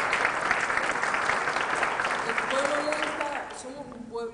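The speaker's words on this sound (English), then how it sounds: "A round of applause for the Salvadoran people" Applause from a large audience at an award ceremony, steady and full for about three seconds, then thinning out as a voice begins speaking over the fading claps.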